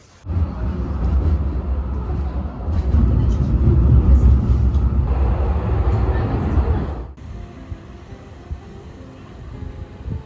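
A funicular car riding downhill in Bergen, Norway, giving a steady loud low rumble with mechanical hum that eases after about seven seconds into quieter cabin noise.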